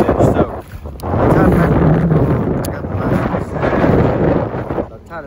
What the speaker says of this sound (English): So it's getting super windy out here.